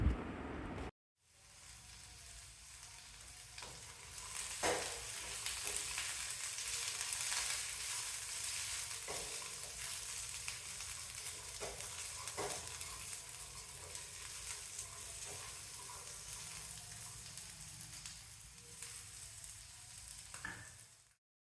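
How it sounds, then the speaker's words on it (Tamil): Onion, green chilli, garlic, chayote and peanuts sauté in a pan with a soft, continuous sizzle, broken by occasional scraping stirs, quiet and close, with no voices. "வெங்காயம், பச்சை மிளகாய், பூண்டு, சௌச்சவ் எல்லாமே நல்லா வதங்கிருச்சு."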